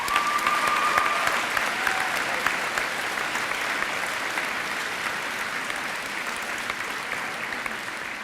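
Loud, sustained applause from a school assembly audience honoring student creative design award winners, a dense wash of clapping holding steady throughout with no voices over it.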